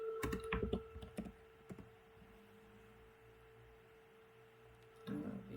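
Keys tapped on a computer keyboard, a quick cluster of clicks at the start, a few scattered strokes, then a pause over a steady hum before another burst of typing at the end.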